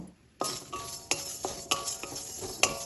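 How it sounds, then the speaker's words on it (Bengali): Whole black peppercorns, coriander seeds, cumin seeds and dried red chillies dry-roasting in a dry karai, with a utensil scraping and clinking against the pan in irregular strokes, close and fairly quiet, no talking. "এই মশলাগুলো সব আমি শুকনো কড়াইতে একবার ভেজে নেব।"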